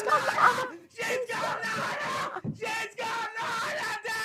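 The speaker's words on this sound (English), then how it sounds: "These alerts are loud, aren't they?" A recorded scream plays as a stream alert during a live WWE Raw watch-along: a loud, sustained human scream and wail in several bursts with brief gaps.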